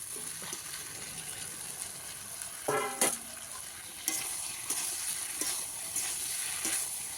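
Fried potato and cauliflower being stirred with spices in a pan hiss with a steady low sizzle, broken by several sharp spatula scrapes and knocks against the pan.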